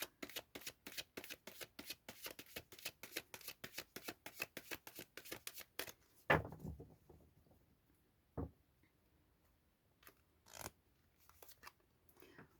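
Oracle cards riffle-shuffled in a rapid run of crisp, close flicks lasting about six seconds, then a heavier thump and a few scattered soft taps as the deck settles.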